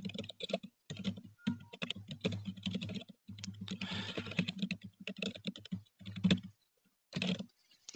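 Someone typing a patient portal message on a computer keyboard, with steady bursts of close key clicks broken by short pauses.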